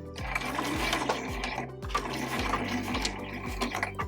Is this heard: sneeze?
no